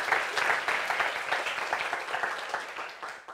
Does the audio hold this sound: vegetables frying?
no